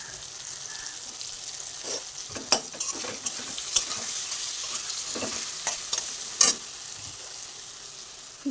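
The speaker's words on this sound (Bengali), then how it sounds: "আলুটা ভেজে নিই, চলো রান্নাটা কমপ্লিট করে নিই।" Potatoes fry in a pan with turmeric and chili powder, a steady close sizzle running throughout, broken by soft scraping stirs and a few sharp clicks of the spoon against the pan.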